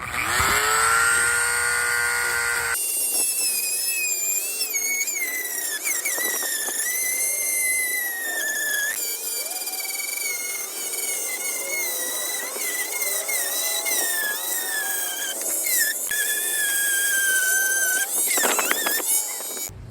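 A rounding wheel on a power tool smooths freshly cut edges for a custom fog light fitting on a first-generation Honda CR-V. It makes a loud, continuous high-pitched whine and grinding close by, with the pitch shifting as the load changes and brief surges throughout.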